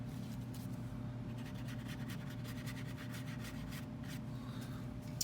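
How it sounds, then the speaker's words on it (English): A brush or tool scrubs wet watercolor paint off paper in a dense, steady rubbing pattern, with faint repeated strokes over a constant low hum and no voices. "we're going to start to scrub paint"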